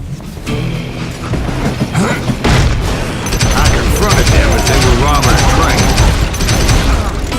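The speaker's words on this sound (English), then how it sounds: "Bullets were flying at me from every which way." Gunfire in the western shooter Call of Juarez Gunslinger: dense, rapid volleys of shots and mechanical clacks, loud and nearly continuous, with a voice talking over them.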